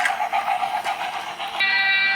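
A toy train runs along its track after being switched on, a steady close mechanical whir and rattle that shifts to a higher, tonal electric hum partway through.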